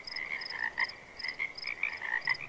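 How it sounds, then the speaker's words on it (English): Frogs croaking at twilight near a barn, a steady chorus of repeated rhythmic croaks, fairly close and clear with no talk. "frogs started croaking as they do at twilight"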